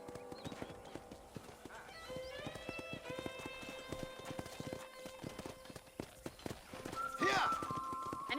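Horse hooves clip-clopping in Red Dead Redemption, a steady run of close hoofbeats beside a ranch corral, with game music tones running through it and a brief whinny near the end.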